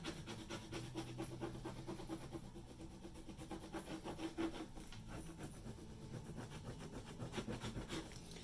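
Steady close rubbing and scraping as a heat-transfer vinyl design is burnished through a sheet of parchment paper, a continuous dry friction texture with short strokes and no talking.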